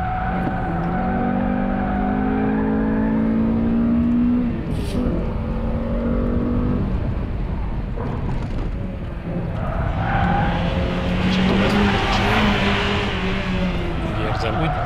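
A Honda Accord Type-R engine drones and revs as it drives on a track, its pitch rising and falling as it accelerates and eases off, with people talking over it.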